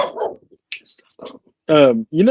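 A dog barks and whimpers close by, giving a few soft yips before two louder, voiced barks at the end, with people talking around it.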